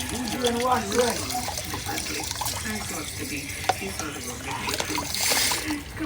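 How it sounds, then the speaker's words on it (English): Running tap water splashes into a sink while a cup is rinsed out, a steady wet hiss with small splatters, heard close and moderately loud beneath people talking. "Yes, we are gonna wash out the cup."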